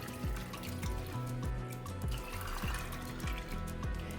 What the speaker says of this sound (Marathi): त्याच्यामध्ये मी आता पाणी घालते.